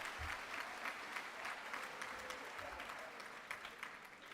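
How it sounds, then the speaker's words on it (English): Steady applause from a crowd at a middle school graduation ceremony fills the room at moderate distance, continuous and fairly soft throughout. "Oh, you don't have to applaud for that."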